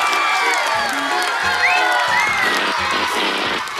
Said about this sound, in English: The students jumped to their feet and applauded.